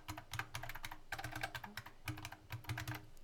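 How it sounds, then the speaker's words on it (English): Rapid typing on a computer keyboard in three quick bursts of clicky keystrokes, close and soft, with short gaps between runs and no talking. "In fact, I'll type it here"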